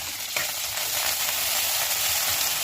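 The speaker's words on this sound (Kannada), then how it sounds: "ಮೊದಲಿಗೆ ಎಣ್ಣೆ ಬಿಸಿ ಆಗಿದೆ. ಹಸಿಮೆಣಸಿನ್ಕಾಯಿ ಮತ್ತು ಕೊತ್ತಂಬರಿ ಸೊಪ್ಪು" Green chilies and fresh coriander leaves fry in hot oil for a peanut chutney, giving a steady, close, even sizzle with no talking.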